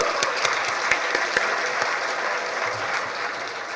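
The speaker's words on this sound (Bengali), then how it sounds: "তোমরা সবাই নিজেদেরকে উৎসাহ দেওয়ার জন্য একটু হাত তালি দাও তো সবাই সবার জন্য" Students at a reception for top SSC 2024 GPA-5 achievers clap together in sustained group applause, a dense, even patter of many hands heard up close without speech.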